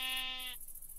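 Sheep bleating in the Minecraft video game, one sustained harmonic-rich bleat about half a second long, close and clear over a faint high electronic tone.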